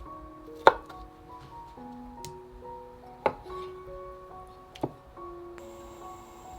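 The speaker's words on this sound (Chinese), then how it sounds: "一部分切成稍微厚一点的瓣儿" A kitchen knife cuts tomatoes into thick wedges on a cutting board: three sharp, distinct chops spaced a couple of seconds apart over quiet background music.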